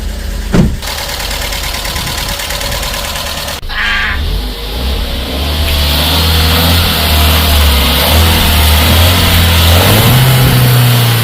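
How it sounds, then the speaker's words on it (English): A VW Scirocco engine runs close by, humming and rattling steadily, with a sharp clatter early on and the pitch rising slightly near the end. "Engine is working fine."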